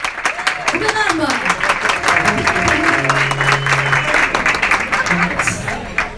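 Audience clapping at a Turkish folk music show, steady applause sustained throughout under overlapping voices and a singer's sustained vocal tone.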